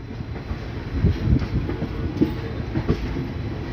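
From inside a moving passenger train on the Delhi–Lucknow main line outside Bareilly Junction, a steady rumble carries irregular wheel clicks and rattles over the rails.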